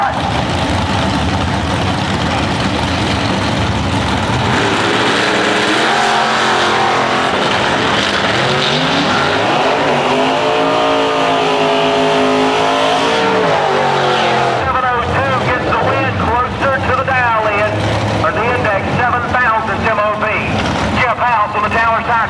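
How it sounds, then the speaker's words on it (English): Drag race cars at an IHRA event in Farmington roar loudly and continuously, engines revving and passing under heavy wind noise for the full stretch, with a shift in engine tone partway through. "A wide variety of race cars."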